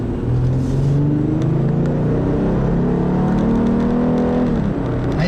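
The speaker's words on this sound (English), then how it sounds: "Nice sounding V6 again." A 2010 Acura ZDX's V6 engine accelerates in a loud, steady, close-up drone whose pitch climbs smoothly as it revs, with no voices.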